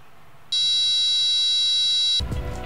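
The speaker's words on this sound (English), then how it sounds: "you should hear the buzzer go." Piezo buzzer on an Arduino laser trip wire alarm blares a loud, steady high-pitched tone for about two seconds, then cuts off into a burst of broadband noise.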